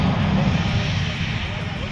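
A Marine Corps F-35B fighter jet gives off a steady, loud, broadband roar while converting to short takeoff and vertical landing mode, with engine noise filling the whole stretch and constant in level.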